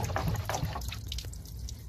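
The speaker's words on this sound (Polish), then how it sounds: "Dopiero jak coś zruszyłem, zaczyna ściekać woda." Water drips and trickles out of a blocked lower door drain on a BMW E60 after the door is shaken, a close, soft, uneven patter of drops under a low hum, with no talking.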